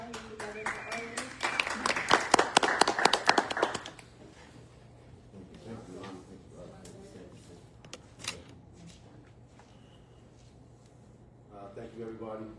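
Applause and clapping from an audience, dense and loud for a few seconds, then fading into quieter room noise with scattered claps and voices.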